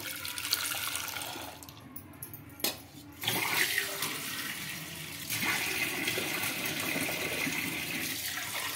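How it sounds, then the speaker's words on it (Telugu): Water being poured into a burnt pot mixed with a spoon of detergent, a close splashing gush that pauses briefly, then resumes filling steadily, no voices. "ఇప్పుడు ఇందులోకి వాటర్ అయితే వేసుకోవాలండి."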